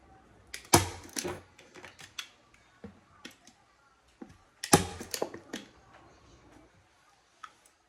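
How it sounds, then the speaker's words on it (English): Scattered metallic snaps and creaks as upholstery staples are pried loose from a footstool, a few louder bursts among quieter clicks, close up with no talking. "I just keep pulling since I don't like the way these staples are sitting that much."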